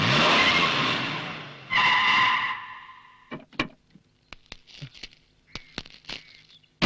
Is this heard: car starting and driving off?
yes